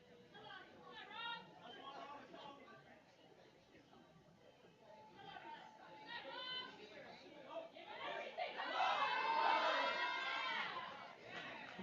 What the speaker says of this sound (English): Crowd getting behind Rob here